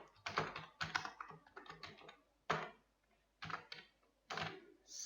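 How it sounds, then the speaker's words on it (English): Computer keyboard typing in bursts of rapid clicks with brief pauses between, close and fairly quiet, while someone enters contact details into a spreadsheet form. "So you can type here"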